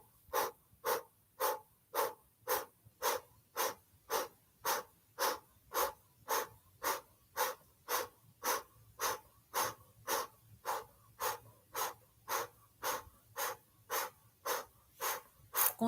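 Rapid rhythmic breath of fire from kundalini yoga practice outdoors on a terrace: about thirty sharp, even nasal exhalations at a steady quick pace, close and clear with no talking.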